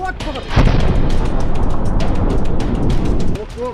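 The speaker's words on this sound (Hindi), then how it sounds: "अल-कुद्स के लड़ाकों ने एक बिल्डिंग पर रॉकेट प्रोपेल्ड ग्रेनेड दागे हैं" A rocket-propelled grenade blast in combat against a building: a heavy, roaring boom swells and sustains for several seconds before cutting off, with rumbling low-end and a brief voice-like tone at the edges.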